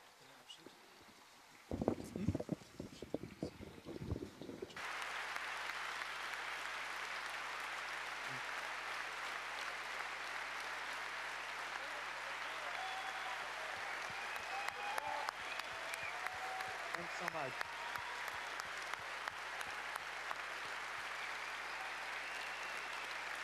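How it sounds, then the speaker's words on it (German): A standing ovation for a keynote at the 30C3 conference: after a few seconds of talk and scattered claps, the audience breaks into loud, sustained applause that fills the hall for the rest of the stretch. "Standing Ovations im Publikum jetzt."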